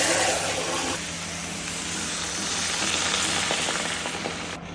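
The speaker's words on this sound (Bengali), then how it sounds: "মাছটা দিয়ে দিই, মাছটা পরিমাণ মতো ভেজে নেবো" Prawns coated in turmeric, chili and salt fry in hot oil in a wok, giving a steady, close crackling sizzle that stays even for several seconds before cutting off sharply.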